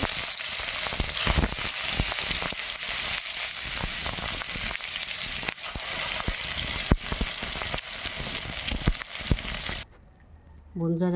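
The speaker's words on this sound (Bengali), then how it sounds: "মাছটাও ভেজে নেব।" A small fish fries in hot oil with a steady, loud sizzle and crackle that runs nearly unbroken for about ten seconds, then cuts off abruptly into quieter room sound.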